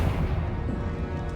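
A Confringo blasting-spell explosion in Hogwarts Legacy: a brief, loud, rumbling boom with a dense low roar that holds steady for about a second.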